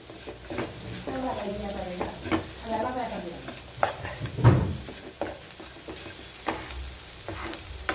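Chicken roast masala sautés in oil as a spoon repeatedly scrapes and stirs through the pan over a constant sizzle, with a faint voice briefly audible in the background.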